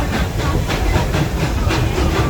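A tourist train at Busch Gardens, Florida rolls along with a steady rumble, hiss and rhythmic clatter of the cars, close and continuous without talk.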